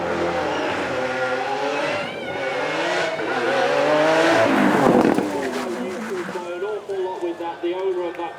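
A Lamborghini Aventador Roadster at a supercar weekend, launched at full throttle with a loud rising engine roar that peaks midway, over continuous crowd talk and commentary.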